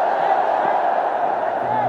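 Steady roar of a large crowd filling a cricket stadium during a Chittagong Vikings versus Khulna Titans match, a continuous broad wash of voices and distant cheering without distinct peaks.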